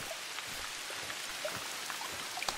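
Steady rain in the video game theHunter: Call of the Wild, a dense continuous patter of drops with a few louder individual splashes, fairly quiet and unbroken by voices.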